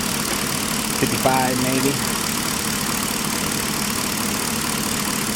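A Chevy Caprice PPV engine idles steadily with its AC compressor running on a cool day, a constant mechanical hum filling the background while someone briefly speaks over it.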